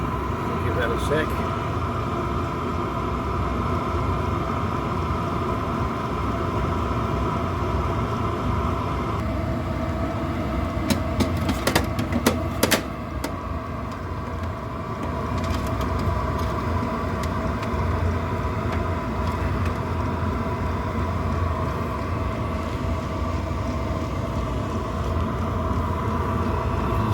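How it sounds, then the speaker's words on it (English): A fuel pump on a Chinese 2 kW diesel heater ticks steadily under the heater's continuous running hum, its pulses gradually spacing out as the pump slows, with a brief cluster of clicks near the middle. "Hear the pump slowing down."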